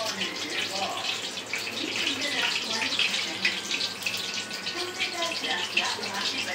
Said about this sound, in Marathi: तर आता हे तेल गरम झालं आहे आणि आता आपण टाकूया ह्याच्यामध्ये गोळे.